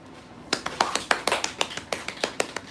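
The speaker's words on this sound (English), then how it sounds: "Can I get a round of applause?" Hand clapping from one person: about a dozen light, crisp claps in a loose, slightly uneven rhythm, fairly close and moderately quiet, with no talking over them.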